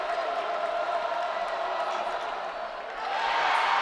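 A Norfolk crowd at a boys' basketball state semifinal applauds, a broad wash of clapping and murmur that swells toward the end, with an announcer talking over it.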